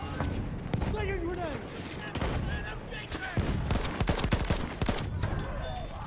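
Battlefield 1 gunfire in a busy fight: bursts of automatic fire and rapid single shots crackle close by, with booms and scattered distant shots all around, and voices talking under the shooting.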